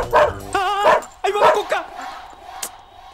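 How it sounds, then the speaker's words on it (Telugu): A dog barks and yips in short bursts during a comedy film scene, close and loud, with crowd noise around it. "కుక్కుంది అక్కడ."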